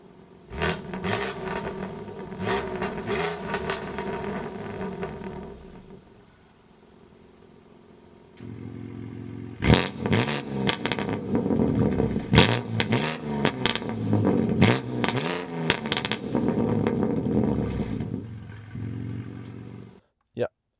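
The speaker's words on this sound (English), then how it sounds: "I will give you some small revs, not over 3000 RPM, so you know how much I will rev the engine" A BMW M3 Competition engine gets short blips of revs kept under 3000 RPM, with sharp rising bursts separated by lower idle stretches and a quieter lull partway through, close to the microphone.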